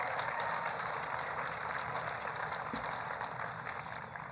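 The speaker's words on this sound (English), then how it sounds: "Give them a round of applause." Audience applause at a political event for a trade deal, a steady, even wash of clapping throughout, moderately loud and without pauses or voices.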